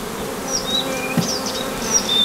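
Honey bees buzz close by, individual insects droning past with rising and falling pitch, no voices present.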